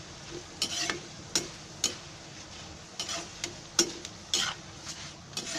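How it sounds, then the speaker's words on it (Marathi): Flattened rice (poha) deep-frying by the handful in hot oil on a fast gas flame, heard as scattered sharp crackles and pops at irregular intervals over a faint, quiet background. "असं तेल चांगलं आहे ना नितळून असे पोहे चांगले तळून घ्यायचे."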